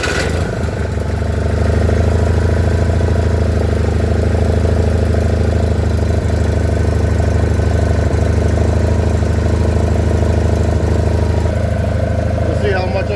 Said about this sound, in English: I'll start this up too so you can see it under power.